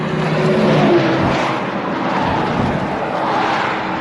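A truck passing by on a road, a broad whooshing roar that swells and fades steadily over a few seconds, fairly close and loud, with no talk.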